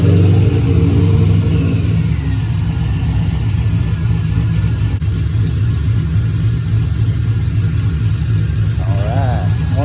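A car engine set up with a 150-shot nitrous system, running loud and rough with a deep throbbing rev close by, while a person talks over it.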